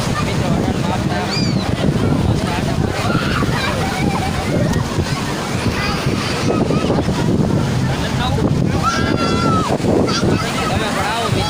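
Wind buffets the microphone while sea waves slosh and wash in at Diu beach, a continuous rough roar with scattered distant voices of a crowd mixed in.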